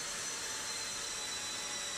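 A drywall sanding machine runs together with its attached vacuum, producing a loud, steady broadband roar and whine that holds unchanged throughout without pause.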